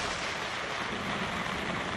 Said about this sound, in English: A tropical storm suddenly erupts over Kuala Lumpur.